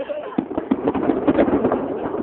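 A rapid series of sharp pops and bangs crackles close by as fireworks go off in quick succession in Edmonton, some bursting on the ground.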